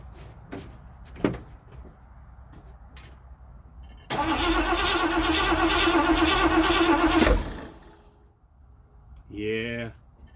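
A 1979 Ford F-100 that has sat for years, now running on fresh gas, cranks and fires up close by. The engine runs roughly for about three seconds, then dies away. Brief speech and clunks come before it.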